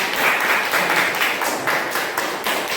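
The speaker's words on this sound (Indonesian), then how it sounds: "Oke, kasih tepuk tangan dulu untuk kelompok." A classroom group of teacher trainees applauds a presenting group, with steady, dense clapping from many hands throughout and no talking.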